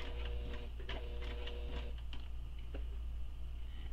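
Domestic sewing machine stitching the bottom seam of a fabric wristlet, needle running in quick steady ticking rhythm with short pauses, close and fairly quiet.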